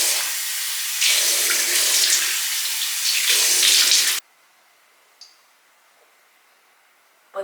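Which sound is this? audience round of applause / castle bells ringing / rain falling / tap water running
tap water running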